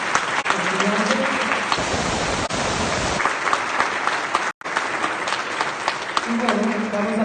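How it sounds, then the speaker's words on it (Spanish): Sustained, dense applause from an audience honoring students at an academic excellence award ceremony at a national mammalogy congress, with brief voices mixed in and a short dropout partway through. "Vamos a darles un aplauso a los estudiantes."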